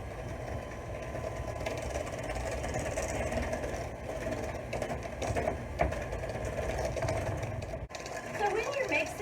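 Electric mixer whirring through chess pie batter made with white vinegar, a steady mechanical hum running continuously under a person talking nearby.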